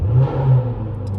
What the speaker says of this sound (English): That gorgeous exhaust note from this Jaguar engine. It is a very throaty noise and a very pleasant noise.